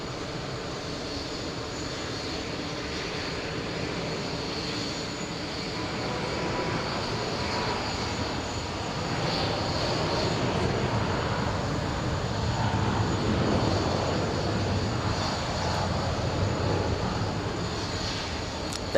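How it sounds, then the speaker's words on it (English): An Airbus A380 roars under takeoff thrust on runway 22 right at JFK, a steady, loud, broadband engine rumble that swells slightly midway and holds throughout, with no talking. "Takeoff thrust on runway 22 right."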